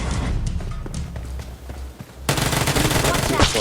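Gunfire from the PUBG Mobile battle game, with scattered single shots and then a loud, sustained automatic burst, close up and heavy, with game sounds around it.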